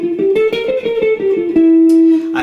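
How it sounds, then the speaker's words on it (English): Electric guitar playing a fast alternate-picked lick in even 16th notes, a quick stream of crisp picked notes that settles onto one held note, close and loud. "hardcore alternate picking left hand, right hand synchronization lick"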